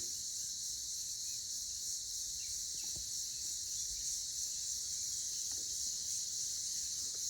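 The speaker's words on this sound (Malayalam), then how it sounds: "ചീവീട്" Dense, continuous high-pitched buzzing of cicadas fills a forest at Malampuzha, a steady shrill drone with a few faint distant bird calls.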